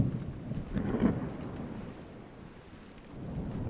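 A thunderstorm in the naval video game Ultimate Admiral Dreadnoughts: a low, continuous rumble of thunder and rain, swelling briefly and then easing into a steady wash.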